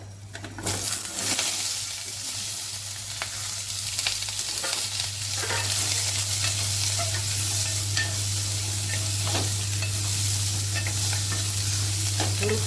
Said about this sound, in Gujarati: આ ડુંગળી એડ કરી દઈશું આપણે હવે।